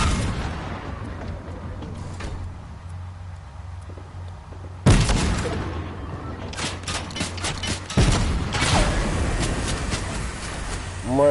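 Gunfire and explosions in a PS4 video game: loud sudden blasts at intervals over a constant rumbling background, with bursts of rapid shots and someone talking briefly.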